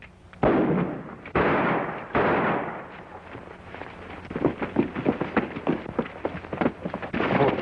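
Gunfire in a western shootout scene, a loud volley of overlapping shots and blasts at first, then a rapid ragged series of sharper cracks continuing throughout, fairly close.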